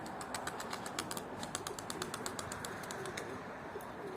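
A pigeon circling overhead beats its wings in quick repeated flaps, a fast rhythmic fluttering that carries steadily across the clip outdoors, moderately close against a quiet open background.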